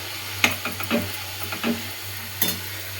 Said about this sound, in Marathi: मस्त अशा भाज्या भाजून घेऊया ह्याच्यामध्ये आधी.